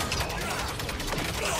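Rapid gunfire from the video game Realm of Ruin, a dense continuous burst of shots filling the moment, loud and close with no pauses.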